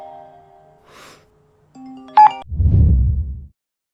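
A mobile phone sounds for an incoming call in a Chinese drama scene: steady electronic ringtone tones, then a bright chime and a soft thump, with no talking.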